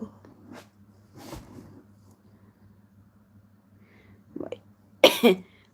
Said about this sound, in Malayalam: വയ്യാത്തല്ല ചെറിയൊരു ചുമ